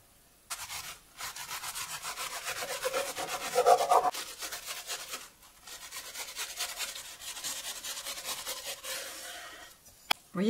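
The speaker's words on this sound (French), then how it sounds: "Un couteau à pain, c'est parfait. Surtout pas une lame lisse, car vous risquez de casser votre pâte feuilletée." Serrated bread knife sawing through baked puff pastry for a strawberry mille-feuille, a steady rasping back-and-forth scrape close up, pausing briefly midway and again near the end.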